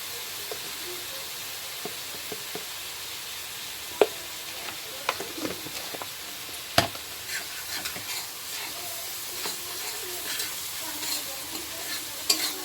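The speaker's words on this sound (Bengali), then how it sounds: "জিরে গুঁড়ো দিলাম, লঙ্কার গুঁড়ো, হলুদ গুঁড়ো সব দিয়ে কষাবো" Ground cumin, chili and turmeric sautéing in a pan with garlic paste make a continuous close sizzle, broken by repeated scraping and clicking stirs from a spatula, with no one talking.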